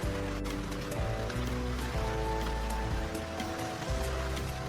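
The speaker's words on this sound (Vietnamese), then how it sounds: "Cơn mưa lớn vẫn không ngừng trút xuống" Heavy rain pours steadily onto a river in the Vietnamese wilds, a dense continuous hiss and patter of drops on water with low rushing undertones, loud and close with no voices.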